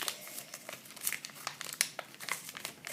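Paper being folded and creased on a table while making an origami bird: close, dry crinkling and crumpling with sharp crackles scattered across the clip, and no voices.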